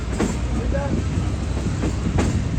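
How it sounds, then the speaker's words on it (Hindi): Awam Express passenger train crossing the Kotri bridge, with a loud, continuous rumble and rhythmic clatter of wheels on rails close by. "हमारी ट्रेन कोटली ब्रिज पर पहुंच रही है।"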